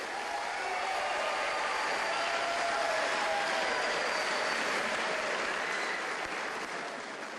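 A crowd claps and applauds for both boxers after a bout at the Armed Forces boxing championship, a steady, dense wash of clapping filling the hall and holding for several seconds before easing slightly.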